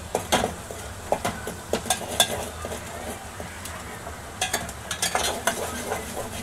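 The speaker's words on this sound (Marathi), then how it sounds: "चांगला मसाला भाजून घेऊया लालसर." Masala roasts in oil in a pan while being stirred, giving a soft background sizzle broken by repeated scraping taps of a spatula in uneven bursts.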